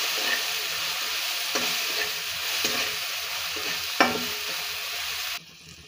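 Turmeric being stirred into hot oil in a frying pan for paneer bhurji, a steady sizzle with a few soft scraping strokes of the spatula, close and alone with no talk, cutting out near the end.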